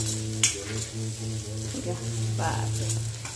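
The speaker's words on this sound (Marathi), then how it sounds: "अजून पुन्हा मिक्स करायचं आहे कारलं." Bitter gourd being stirred with masala in a hot pan, a steady sizzle and frying crackle with occasional scrapes of a utensil, close and continuous under a low hum.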